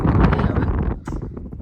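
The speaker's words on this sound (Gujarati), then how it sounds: "પવન બહુ વધારે છે" Strong wind buffets the microphone at the Navli river near Savarkundla after rain, a loud, close, low rumbling roar that surges and then briefly eases.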